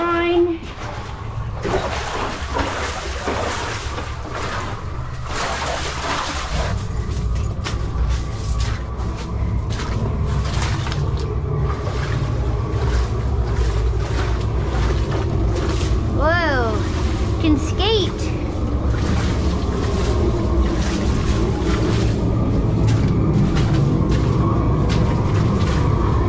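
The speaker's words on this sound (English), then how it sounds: "So it's flowing down. Okay, lots of water flowing down?" Water running down out of a cold mountain mine, a broad continuous rushing flow that grows steadier, heard under intermittent voices talking nearby.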